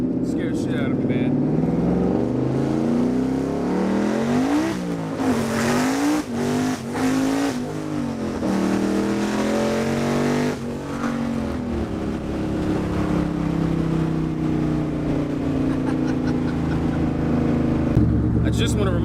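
A twin-turbo 1987 Foxbody Mustang accelerates hard on a low boost setting, its engine roaring and climbing through rising revs with a shift partway through, loud and close from inside the car, with voices speaking over it.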